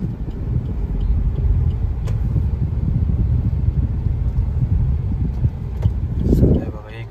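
Cars move through the Nrusinhwadi gram panchayat entrance in a steady, close low rumble that swells near the end, while people talk over the engine noise.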